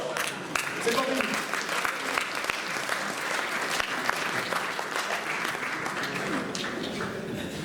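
Sustained applause from an audience at a speech in Deauville, many hands clapping in a dense, even roar with a few sharper claps standing out, steady for several seconds.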